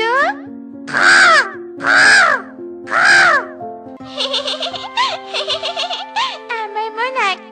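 A person imitates a crow's caw, first three long drawn-out caws, then a quick run of shorter choppy caws, loud and close with no other sound.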